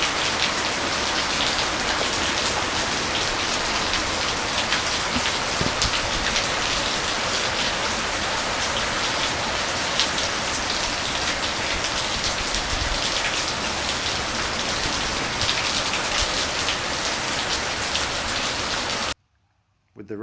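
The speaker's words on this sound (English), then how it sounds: "It's actually raining pretty good here at the moment." Heavy rain drums steadily on a carport roof, a dense, loud patter of drops continuing without pause for nearly twenty seconds before cutting off abruptly.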